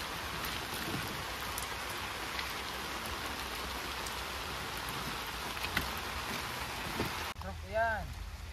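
Heavy rain pours steadily at a campsite, a dense continuous hiss of drops drumming on surfaces, with a brief voice near the end.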